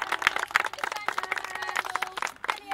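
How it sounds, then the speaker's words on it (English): Small group clapping for the helpers at a Beavers scout camping weekend, sharp uneven hand claps close by with scattered voices mixed in. "big round of applause"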